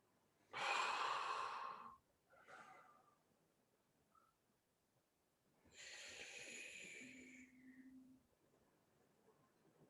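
Deep breathing during a posture assessment for back pain: a long, loud inhale through the nose, a short breath, then another long, drawn inhale, close and with quiet between breaths.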